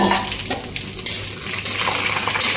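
Fennel seeds, nigella seeds and dried red chillies sizzling and crackling in hot oil in a pan, a steady close frying hiss with small bursts of spattering.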